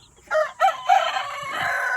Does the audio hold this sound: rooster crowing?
yes